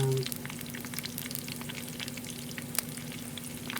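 A salmon steak sizzles in a pan as it is flipped, a continuous hissing fry with small crackles, a brief low tone at the start and one sharp click near the end of the turn.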